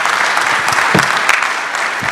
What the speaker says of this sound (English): let's give a round of applause for Curtis Hite